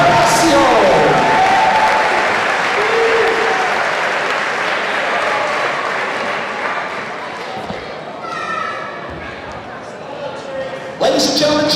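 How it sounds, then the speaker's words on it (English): Sustained crowd applause fills a high school gym during a boys basketball senior recognition for the Leominster class of 2023, loud and continuous before easing slightly, with brief cheers and a burst near the end. "Ladies and gentlemen, join me in one more round of applause for the Leominster High School class of 2023 in the boys basketball program"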